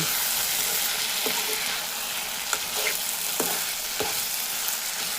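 Tomato bath with ghee being stirred in a pan, a continuous loud sizzle and bubbling fry with a few soft scrapes of the spoon against the pan.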